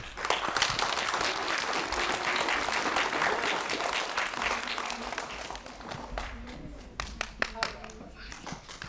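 An audience claps in sustained, dense applause that gradually thins into a few scattered, louder individual claps near the end, with faint voices mixed in.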